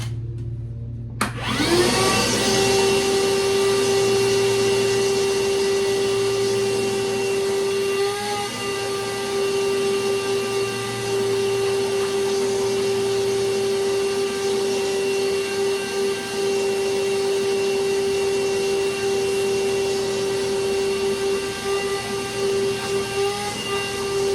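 A vacuum cleaner with a dryer vent hose attachment switches on abruptly and keeps running with a loud, steady whine and airy roar for the rest of the recording.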